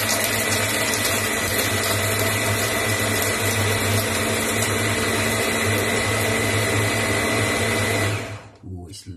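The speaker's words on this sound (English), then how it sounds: "Try not to keep it on for longer than about a minute if you're using the blender" A blender runs continuously at a steady high whine with a grinding, pumping drone, loud and close, then cuts off abruptly near the end.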